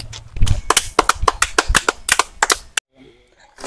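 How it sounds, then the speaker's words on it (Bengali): An audience clapping in a quick burst of loud, sharp, irregular claps that stops abruptly, followed by faint background sound. "হাততালি হাততালি হাততালি"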